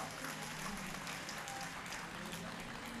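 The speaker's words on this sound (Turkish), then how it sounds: "Abdurrahman Recep, Hafız Hikmetullah Emin, alkışlar, alkışlarla." A crowd claps steadily in a dense, even patter at a graduation ceremony, fairly faint as if heard from within a large hall.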